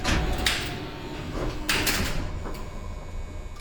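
Old lift doors closing in a building with a resistor motor control and relay cabinets: a few sliding door thumps and rumbles over a steady mechanical background, fairly close and moderately loud.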